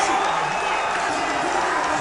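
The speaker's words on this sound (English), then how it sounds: "The crowd's going nuts." A loud crowd at the Evo 2013 fighting game tournament roars and cheers continuously, a dense wash of voices filling the hall.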